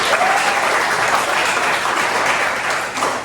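Steady applause fills a lecture or teaching session for a lecturer certification programme, dense clapping at even loudness for about three seconds, with no voices over it.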